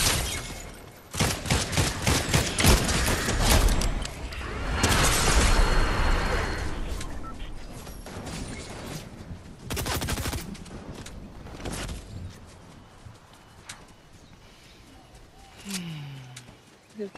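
Fast bursts of video game gunfire rattle loudly and repeatedly in clustered volleys, then thin out into a few isolated shots and quieter ambient noise, with faint voices now and then.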